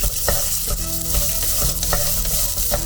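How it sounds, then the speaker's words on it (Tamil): Ridge gourd peel sizzling and frying to golden in a pan for South Indian chutney, with a spoon stirring and scraping now and then, loud and close, no talking. "நல்லா பொன்னிறமாக வறுத்துட்ருக்கோம்"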